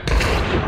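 A single loud gunshot in Hunt: Showdown, a sharp close crack followed by a brief rumbling tail.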